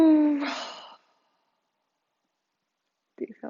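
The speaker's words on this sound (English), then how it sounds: "Make some noise as you exhale." A loud, breathy exhale with a voiced sigh during a yoga breathing exercise, lasting about a second, followed by silence and then a brief soft sound near the end.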